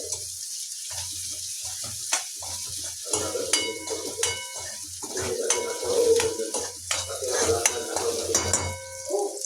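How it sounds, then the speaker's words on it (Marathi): Onions sauté in a pan with curry leaves for a hadga flower bhaji, a soft sizzle broken by repeated scraping strokes and sharp metallic clinks of a spoon against the pan. "कांदे घालायचे याच्यामध्ये, कांदे परतून घ्यायचे आहेत चांगले"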